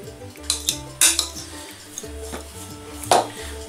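A utensil clinking and scraping against a bowl while stirring a breadcrumb mixture for a salmon crust, in a steady rhythm of close metallic taps and knocks with no talking.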